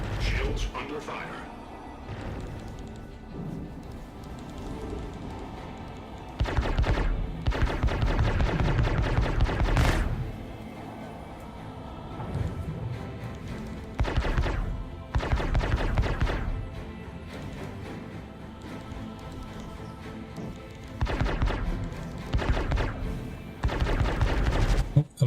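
Ship shields take weapons fire in the Star Citizen space game, with bursts of heavy rapid impacts and blasts in several separate volleys over a constant low engine rumble.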